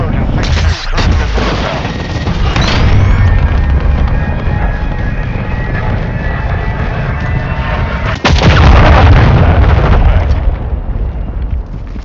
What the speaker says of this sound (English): Request an airstrike at this location.